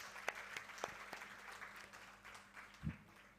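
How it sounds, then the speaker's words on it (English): An audience applauds students after a school stage performance, with scattered, fairly faint claps and a thin patter rather than a dense ovation, plus a soft thump near the end. "my big round of applause to all of you."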